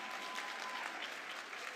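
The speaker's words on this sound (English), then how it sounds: "It's okay to applaud them" Audience applauding at a high school winter graduation commencement, steady clapping from a large crowd held at an even level for the whole stretch.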